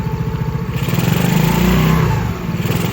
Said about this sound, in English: Just gotta rev her to the moon a couple times and call it good.